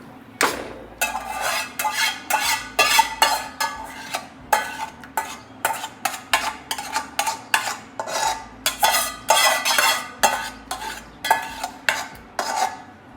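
Chole chana gravy stirred in a pot, a spoon scraping and knocking against the metal in a quick, steady rhythm of repeated strokes, loud and close with no voices.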